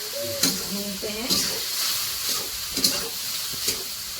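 Mutton pachouni stir-frying in a pan for a village-style dry bhujia, with a steady sizzle and intermittent scraping stirs at close range.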